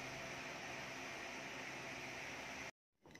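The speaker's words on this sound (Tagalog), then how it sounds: "kasi naka-open po yung ating fan dahil sobrang mainit naman dito sa ating kwarto." A steady, faint whooshing hum from an electric fan running in a hot room, continuous and even until it cuts off abruptly near the end, with no talking over it.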